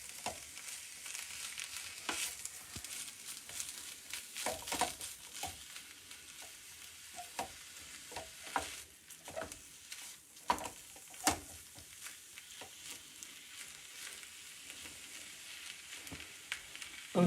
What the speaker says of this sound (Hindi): पनीर मैंने डाल दिया और साथ ही साथ हम इसमें उबले हुए मटर भी डाल देंगे और इसको थोड़ी देर तक हमें बस भूनना है।